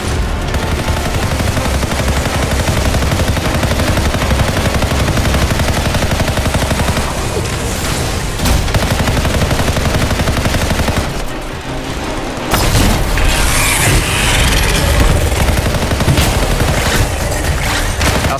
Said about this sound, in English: Legendary multi-mortar right on that weak point is perfect.